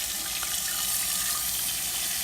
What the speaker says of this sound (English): Now let's turn the water off, because we don't want to waste water first and foremost.